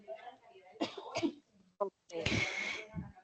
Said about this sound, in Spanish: perdón, porque me dio tos